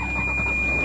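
A Ferrari 360 Modena engine starting and settling into a steady, loud idle, close by and continuous with no talk.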